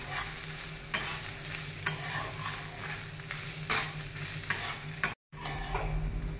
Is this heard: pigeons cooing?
no